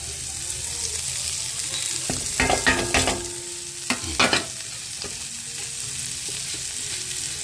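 Onion and garlic frying in a little oil in a pan: a steady close sizzle with bursts of stirring and scraping clatter around the middle, no voices.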